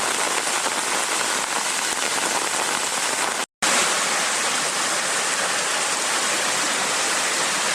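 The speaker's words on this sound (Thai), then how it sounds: "โอ้ฝนตกหนักครับ" Heavy rain pours down in a forest in a dense, steady hiss that cuts out for a split second partway through, with no voices.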